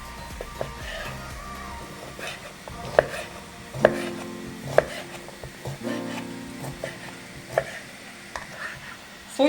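A knife chops smoked sausage and ham into cubes steadily on a cutting board, sharp irregular knocks over a soft background of cooking sizzle and faint kitchen clatter.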